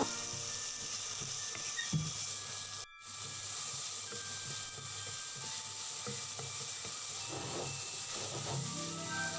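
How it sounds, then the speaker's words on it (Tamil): Karamani beans sauté in oil for a Nagercoil-style kootu, giving a steady, fairly quiet hiss and sizzle with occasional stirring scrapes, briefly cut off by a short gap early on. "எண்ணெயிலேயே இந்த பயிர் நல்லா வதங்கணும்"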